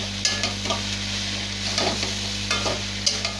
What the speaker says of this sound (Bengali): এবার কিছুক্ষণ নেড়ে চেড়ে